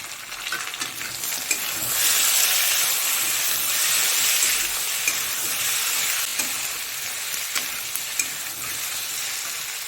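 Tomato pieces and green chillies frying in a hot pan, a steady, fairly loud sizzling hiss that continues throughout with occasional small pops and stirring scrapes.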